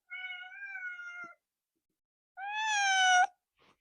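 A cat meows twice, close and clear indoors: a long, steady first call, a pause, then a louder, higher meow, with a faint short chirp at the end.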